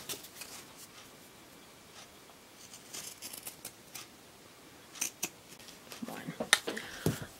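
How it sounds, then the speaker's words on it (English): Pinking shears snip around the edge of a fabric square for a pinwheel ornament, a series of quiet crisp cuts with rustling, growing louder and quicker toward the end. "Now we're going to take some pinking shears and cut around the outside of this square."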